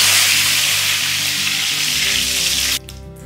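Curry leaves dropped into hot oil while making masala peanut pakoda give a loud, dense hiss and crackle of frying that cuts off abruptly near the end.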